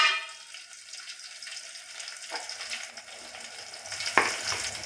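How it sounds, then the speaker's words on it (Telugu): Thinly sliced onions and ginger fry with dried red chillies in a pan, giving a steady close sizzle with a few sharper spatters and stirring scrapes near the end. "ఉల్లిగడ్డలు సన్నగా తరుక్కున్న ఉల్లిగడ్డ వేసుకోవాలి."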